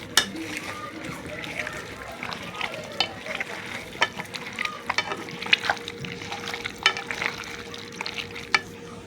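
Mutton being mixed with oil and tomato in a pan: continuous wet squelching and clicking spoon strokes with light sizzling, close and fairly loud.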